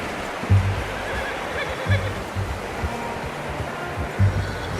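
A horse in Red Dead Redemption 2 gives several short whinnies and snorts at intervals, fairly close, over a constant rushing outdoor ambience.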